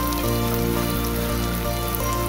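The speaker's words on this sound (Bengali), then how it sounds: "এবার সবশেষে দিয়ে দিব মগজদানা ও কাজু বাদাম, দিয়ে একটু ভেজে দিব।" Melon seeds and cashew nuts frying in a pan for a shahi chicken dish, a dense crackling sizzle with a steady low hum running under it.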